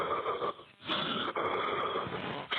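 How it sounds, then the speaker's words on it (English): Heavy breathing on a recorded 911 emergency call: long, loud wheezing breaths, three or four of them with brief gaps between, close and harsh, with no talking. "The heavy breathing is associated with observing something shocking, right?"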